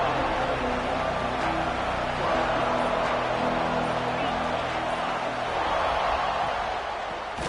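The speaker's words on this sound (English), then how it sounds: "Listen to the crowd energy here in the early going." Stadium crowd in a college football video game, a steady dense roar of cheering and babble that stays loud and constant without pause.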